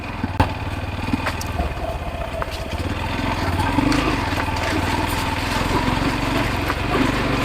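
A motorbike engine drones steadily as it rides along the border route toward the Meghalaya frontier in Sherpur, a continuous close mid-pitched hum with slight throttle swells and some rattle, no clear talk.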